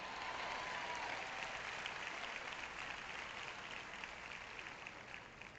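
Steady applause from a church congregation during a sermon, a dense patter of clapping that holds for several seconds and slowly eases off.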